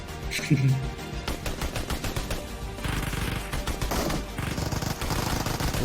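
Rapid gunfire bursts in a video game, a series of dense, repeated shots running through the whole stretch, loud and continuous, with a brief low tone near the start.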